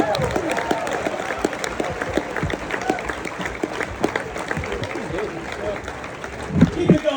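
A comedy club audience claps steadily for several seconds, a dense crackle of many hands, with a voice briefly rising over the applause near the end.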